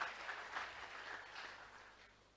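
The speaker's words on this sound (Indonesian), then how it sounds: "Oh, tepuk tangan, haleluya." A church congregation at a Christmas service claps together, a soft, fairly distant patter that fades away over a couple of seconds.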